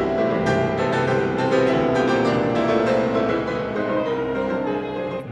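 Dense, loud passage from Rachmaninoff's Third Piano Concerto in Horowitz's 1978 performance, with rapid piano chords and runs over a full orchestral wash, continuous and without speech.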